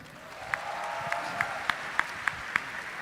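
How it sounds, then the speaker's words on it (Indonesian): Scattered audience applause breaks out at a live political roast comedy show, a light crowd clatter with several sharper individual claps standing out at a fairly regular pace. "Tepuk tangan dong."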